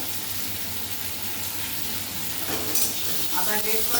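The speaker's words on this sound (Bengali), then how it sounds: "এবার আদাটা ভেজে নিয়েছি" Grated ginger and chopped tomato fry in hot oil in a village kitchen, a steady broadband sizzle with stirring scrapes; louder bursts of crackle near the end.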